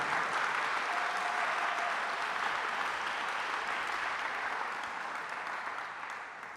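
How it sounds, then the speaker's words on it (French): A church congregation applauds its pastor with sustained, dense clapping from a crowd that fills the room, holding steady and then gradually fading toward the end. "Est-ce qu'on peut l'acclamer plus fort que ça?"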